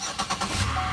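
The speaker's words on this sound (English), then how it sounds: "Car does start." A 2009 Chevrolet Impala with a 3.5L V6 engine cranks with a few quick pulses and then catches into a steady idle, close and fairly quiet.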